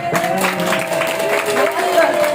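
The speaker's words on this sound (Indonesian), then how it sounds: "Tepuk tangan boleh." Applause from participants at an early-childhood education workshop, a brief dense burst of clapping with voices mixed in, fairly loud and close.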